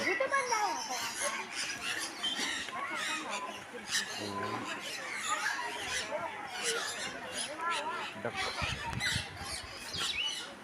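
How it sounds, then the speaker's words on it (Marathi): Many birds chirp and twitter continuously in a busy chorus at a fish theme park in Sawantwadi, with a voice talking over them. "आणि हा पक्ष्यांचा किलबिलाट आपल्याला ऐकू येत आहे"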